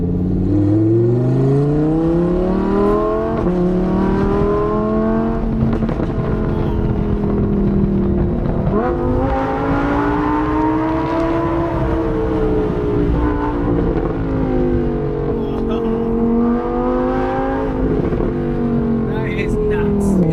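A Lamborghini Performante Spyder engine in sport mode revs loudly, pitch rising and falling in repeated surges as it accelerates and backs off.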